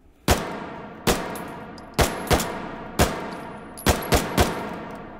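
C96 pistol firing in the H3VR virtual reality game: eight sharp, close shots in an uneven rhythm, each with a bright crack and a short decaying tail, with no talking.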